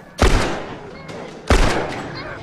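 Two loud, close gunshots in The Last of Us video game, each a sharp crack with a decaying tail, spaced about a second and a half apart, with no one talking.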